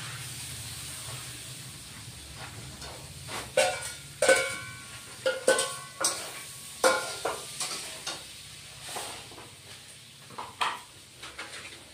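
Young drumstick vegetable pieces frying in a pan, a low sizzle with a series of sharp scraping stirs and clinks of a spatula against the pan, fairly close.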